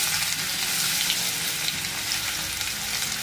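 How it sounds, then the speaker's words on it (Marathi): Onion frying in hot oil for a Maharashtrian tomato chutney, a steady dense sizzle with soft crackle that holds evenly close up for the whole stretch, with no voices over it. "तर आपण आता कांदा टाकून घेऊ"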